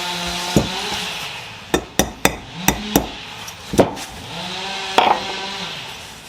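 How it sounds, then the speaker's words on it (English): A brass hammer taps on a wheel bearing of a VW sandrail, about ten crisp metallic strikes at uneven intervals, close and ringing over a faint shop background. "Get the brass hammer."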